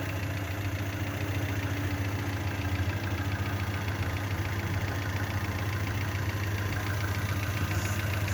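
A Hyundai Accent 1.5 petrol injection engine idles steadily after a cylinder head rebuild, a continuous low hum with a faint rhythmic ticking, alone with no talk.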